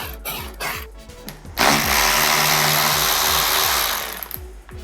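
A power tool unfastening bolts on a KTM 690 SMCR motorcycle: short bursts of whirring and clicking come first, then a steady loud whine runs for a couple of seconds before winding down, close to the listener with no talk.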